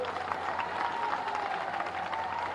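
A large crowd at a BJP political rally in Bihar applauds, dense continuous clapping filling the space, with a few cheers mixed in.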